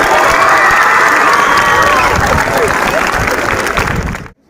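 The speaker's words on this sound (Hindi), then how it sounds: "अरे ताली बजा दो।" A school theatre audience, children among them, bursting into loud clapping and cheering with shouts mixed in, the roar sustained and close before cutting off abruptly.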